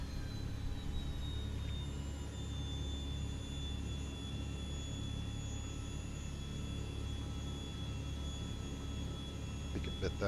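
A Douglas DC-3 radial engine in a flight simulator turns over and runs as a steady low rumbling drone with a faint high whine, heard quietly and continuously without pause.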